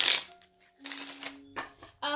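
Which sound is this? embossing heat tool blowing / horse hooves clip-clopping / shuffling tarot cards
shuffling tarot cards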